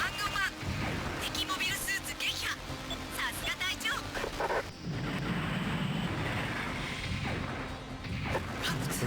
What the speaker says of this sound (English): Where did that blast come from?